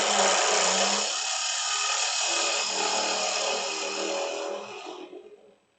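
A woodturning lathe tool cuts across the spinning top of a wooden three-corner box, flattening it for hollowing: a loud, continuous hissing scrape that holds steady for about five seconds, then fades out.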